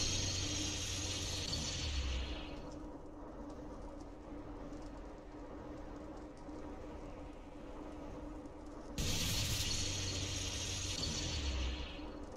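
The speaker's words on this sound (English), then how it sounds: "yeah, give me a good power washer" A power washer sprays in the game Viscera Cleanup Detail as a loud, steady hiss that runs for about two seconds, stops, then starts again for another few seconds.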